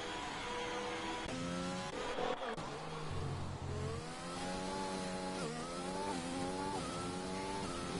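F1 car in the F1 2020 racing video game at the Hungary circuit, engine revving up through rising gear pitches with brief drops at shifts, steady and fairly loud throughout, no speech.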